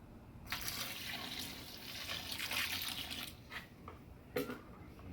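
Water pours into a bucket of concrete mix in a steady hissing stream for a few seconds, then tapers into brief splashes and gurgles.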